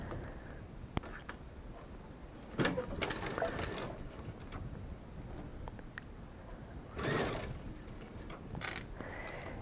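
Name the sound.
sewing machine straight stitching mesh fabric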